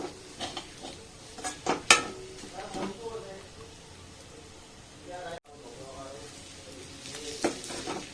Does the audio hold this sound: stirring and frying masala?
yes